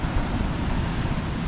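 Ocean waves breaking on a sandy beach, a steady loud roar of surf with wind buffeting the microphone, no voices.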